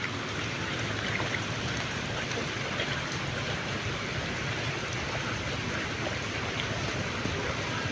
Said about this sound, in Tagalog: Grabe, lakas talaga ng ulan,